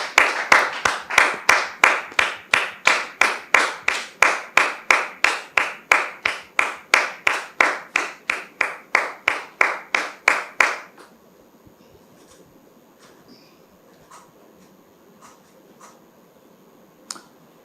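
An audience claps in a steady, rhythmic beat of sharp, close hand claps that stops abruptly partway through, leaving faint room noise and a few scattered taps.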